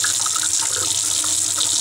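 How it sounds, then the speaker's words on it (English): Hands are washed under a running tap at a sink during a nursing assessment, the water hissing and splashing steadily and loudly throughout with no talk. "I'm going to wash my hands."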